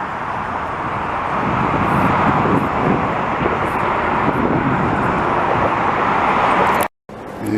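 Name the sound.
vintage Boeing 737 airliner flying overhead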